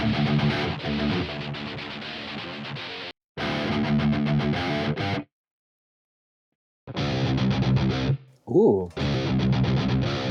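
Distorted high-gain metal electric guitar tone from a cheap old guitar through a Neural DSP Quad Cortex, played loud and close in bursts with a few gaps of silence and a brief exclamation from a voice.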